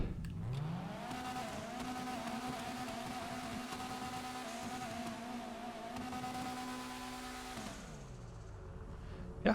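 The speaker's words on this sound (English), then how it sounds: "Definitely sounds like a old school rally car" The Vapid Retinue MK2 in GTA Online accelerates with a steady engine drone holding one pitch for several seconds, rising at the start and dropping away at the end, fairly quiet overall.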